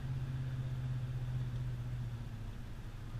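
A Ford truck with a 460 engine and 5-speed manual gearbox, heard as a steady low engine drone with a strong hum; it holds nearly constant while the truck downshifts and slows, with no talk.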